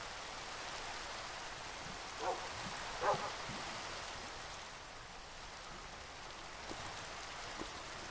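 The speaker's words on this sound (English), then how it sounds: "That actually is the first time that I have actually rained in the game in a while." Rain falls in a survival video game as a faint, even hiss, with a couple of soft splashes or taps and no voices.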